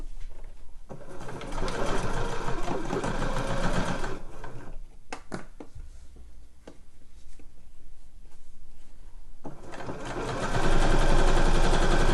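Sewing machine stitching fleece-lined slipper uppers, a loud, close, rapid rhythmic whir running in long stretches, with a quieter pause in the middle before stitching resumes faster.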